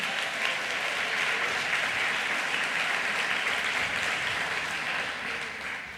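A church congregation applauds in a steady, dense wash of clapping that stays loud and continuous before tapering slightly at the end.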